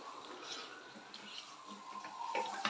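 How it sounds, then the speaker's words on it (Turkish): Water poured over a teddy bear in a bathtub, a faint, soft continuous splash and trickle with a slight swell toward the end. "Su dök Ayıcığını. Su dök, bir daha dök."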